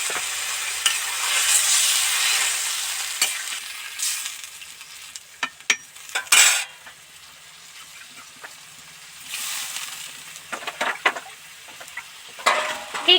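Mixed vegetables sizzle and hiss in a pan as a little water is added, followed by quieter bubbling with intermittent stirring scrapes and clinks.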